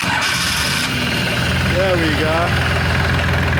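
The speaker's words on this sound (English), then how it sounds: "I'm just warming up the tractor." A tractor engine starts up and settles into a steady, rumbling idle, loud and close throughout, with someone speaking briefly over it.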